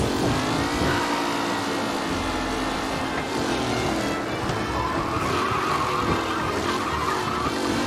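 Racing cars in the video game Mafia roar together in a steady, loud engine drone, with tire noise and a rising whine partway through and no voices.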